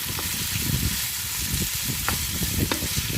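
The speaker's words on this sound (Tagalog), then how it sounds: "Halu-haluin lang natin, halu-haluin." Minced beef with a little fat sizzles in a pan while being stirred, giving a steady frying hiss broken by soft scraping and stirring knocks.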